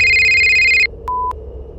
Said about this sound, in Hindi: तभी रीत का फोन बजने लगा।